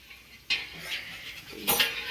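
A cook stirring a pot of food, two or three brief metallic scrapes and clinks of a utensil against the pot, close and moderately loud, over a faint background.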